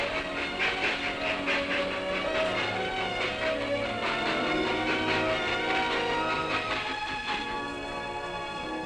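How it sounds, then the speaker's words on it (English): A train runs through a tunnel beneath the mountain at Coalcliff, producing a steady, enveloping rumble and hiss with faint rhythmic clatter, unbroken for the whole stretch and with no voices. "trains ply to and from Coalcliff through a tunnel under the mountain"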